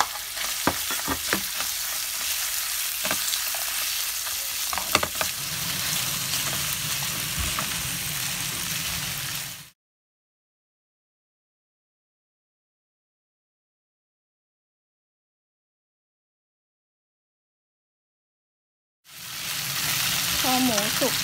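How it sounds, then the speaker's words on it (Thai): Onion stir-fries with pork for Japanese-style pork kimchi, a close, continuous sizzle with stirring scrapes and clicks, dropping to complete silence for several seconds before the frying sound returns. "ก็ตามด้วยหอมหัวใหญ่ใส่ไปเลยนะคะ"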